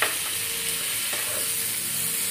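Browned onion and ginger paste with freshly added chopped tomato fry in a pan, producing an even, dense sizzle that holds steady and close throughout, with faint stirring underneath.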